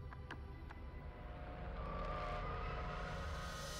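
Car arriving, its engine and tire noise rising steadily from a faint rumble to a louder, closer rush over a few seconds, with a few brief clicks early on.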